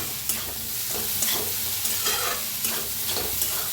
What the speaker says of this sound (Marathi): साबू तांदूळ भाजून घेतलं, असं हलवतच छान असं भाजायचं